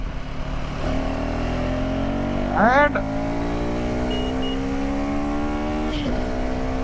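A 2025 KTM Adventure 390 motorcycle in street riding mode hums at a steady engine note while moving, with a quick rev blip partway through and wind rushing throughout, as someone talks over it.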